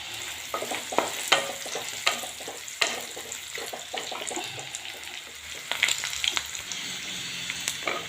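Potato balls sizzle and crackle in hot oil in a home kitchen while being stirred, with irregular scraping clicks from the utensil over a steady, fairly quiet frying hiss.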